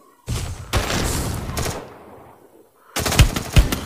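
Shotgun blasts in the Free Fire Clash Squad video game: loud, close booming shots in two separate bursts with a short pause between them, no talk over them.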